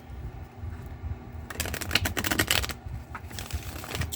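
A deck of tarot cards is shuffled by hand at close range, with a quick burst of riffling and flapping cards after a quiet start, then softer scattered shuffles, and no voices.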